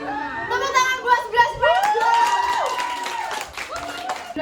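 A class of schoolchildren claps together after a quiz, with loud excited shouting and chattering voices over the uneven patter of hands for about four seconds.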